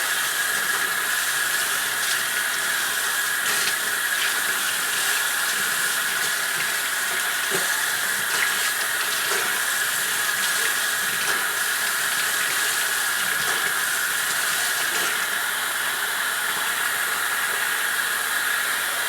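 Tap water runs steadily as a photogravure plate is rinsed, a continuous even hiss and splash held at the same level throughout, close by, with no talk over it.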